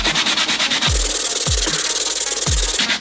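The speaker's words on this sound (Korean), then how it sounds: "이제 사포로 긁으면서 반복 작업을 해야 될 것 같아" A knife blade is rubbed with sandpaper in steady back-and-forth strokes, a loud, close, rhythmic scraping with a dull thump at the end of each stroke and no talking.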